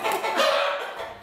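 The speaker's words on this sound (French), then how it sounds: "Même si le coq tente de voler la vedette" Rooster on a farm crowing once in a single drawn-out call, fairly close and clear, with no talk over it.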